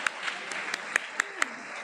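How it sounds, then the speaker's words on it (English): Scattered claps from an assembly audience welcoming a newborn baby boy, a handful of sharp distinct hand claps spaced out over a quiet room, with a murmur of voices underneath. "Give him a round of applause."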